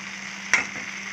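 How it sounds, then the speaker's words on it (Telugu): Leafy greens fry in a pan with an even, close sizzle and a single brief clatter of stirring midway, no talking. "ఈ ఆకుల్లో వాటర్ తోటే మనకి వేగిపోతుందండి"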